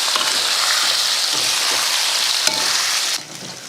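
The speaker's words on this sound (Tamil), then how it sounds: "கொஞ்சமாக ஊற்றிட்டு பொரிச்சுக்கிட்டால் போதும் எண்ணெய் காஞ்சதுக்கப்புறமா போட்டு பொரிச்சிடலாம்" Ingredients shallow-frying in a little oil in a kadai crackle and sizzle loudly and steadily, with a few light utensil clicks, before the sizzle drops to a quieter hiss near the end.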